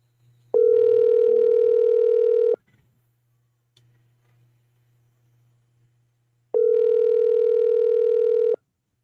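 Two long, steady ringback tones on a telephone line, separated by about four seconds of near silence with faint line hiss, as the call waits to be picked up.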